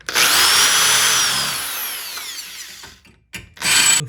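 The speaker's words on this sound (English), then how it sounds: "we'll just drill these holes out" A power drill bores screw holes through wood for a Honda Element micro camper base, a loud whining spin winding down, then a brief pause before a second short burst of drilling.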